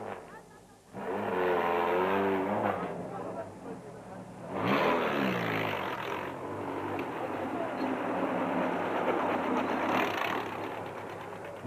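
An off-road race car engine during the Lesotho Sun 400 rally in 2004 roars loud and close, its pitch rising and falling through revs, with a commentator talking over it.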